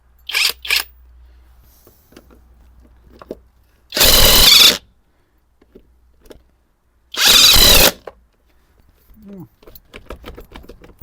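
Stromo AWA 25 cordless impact wrench removing 19 mm nuts, two loud sustained hammering bursts of about a second each, separated by quiet handling clicks and a brief jangle of metal.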